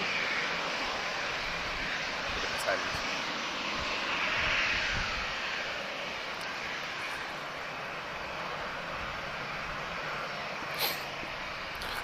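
A Boeing 757 jet at Lisbon Airport produces a steady, broad engine roar that swells gently and fades, heard from a distance as a continuous wash with no talk.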